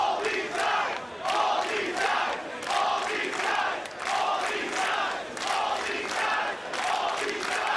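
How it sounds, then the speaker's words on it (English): A live pro wrestling crowd at a Field of Honor event chants in a loud, steady rhythm, with repeated rising and falling phrases filling the arena throughout. "You hear the crowd chanting"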